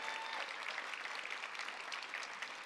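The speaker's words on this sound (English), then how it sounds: "They love you so much, they clap even before I say something about you." A commencement audience at a university creative studies ceremony claps in a sustained, even wash of applause, heard alone without speech and somewhat distant and soft.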